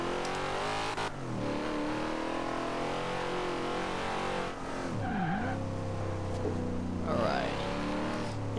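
A 1970 Plymouth Road Runner engine in the Forza Horizon 2 racing game, roaring steadily and loudly as it revs up and down through gear changes, with tire squeal during cornering.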